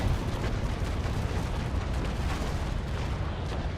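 Cannon fire from the ship Wasa in the naval battle game Naval Action, a loud, continuous, rumbling roar of overlapping blasts that fills the whole stretch.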